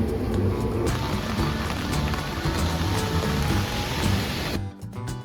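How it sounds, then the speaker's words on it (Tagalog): Steady rain falls on the streets of Shinjuku, Tokyo, in gloomy wet weather, a dense continuous hiss with faint street sounds beneath, easing off near the end. "Today's weather is gloomy and rainy."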